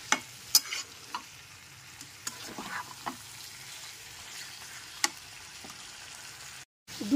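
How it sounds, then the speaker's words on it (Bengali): Soya chunks being stirred and fried with potato and spices over a medium gas flame, a soft continuous sizzle broken by scattered clinks and scrapes of a spoon against the pan, close and fairly quiet. "আলু আর মশলার সাথে খুব ভালো করে সয়াবিনগুলোকে মিশিয়ে নিতে হবে।"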